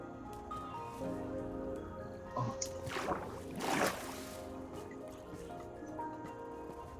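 A character in a horror survival video game wades through water, with soft splashes and sloshing peaking in two brief surges over a low ambient game drone and music.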